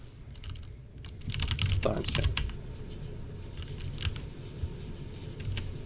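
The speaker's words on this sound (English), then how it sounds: "No, I'm typing something." Rapid clatter of typing on a computer keyboard, close and fairly quiet, with brief voices talking faintly alongside the keystrokes.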